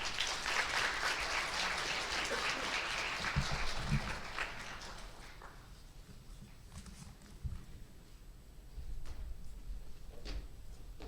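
An audience at a Korean government briefing session applauds to welcome a speaker to the podium, loud dense clapping for about five seconds that fades into scattered claps and room noise.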